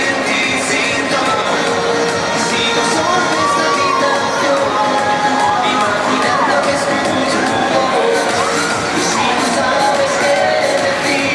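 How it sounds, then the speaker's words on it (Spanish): Crowd at a race podium ceremony applauding and shouting in a dense, continuous roar, with children's voices mixed in, held at a steady loud level throughout. "Y ese aplauso"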